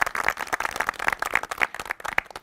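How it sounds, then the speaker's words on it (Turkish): Dense, crackling applause from a group of race competitors clapping for themselves outdoors in the sun, loud and close with uneven bursts and no talk. "Bir alkışlayalım mı kendimizi arkadaşlar bravo."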